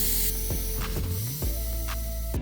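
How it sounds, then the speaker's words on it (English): Air hisses out of a bicycle inner tube valve as a loud, close, steady rush, with a few faint mechanical clicks and squeaks over the top. "This is why we want to let the air out."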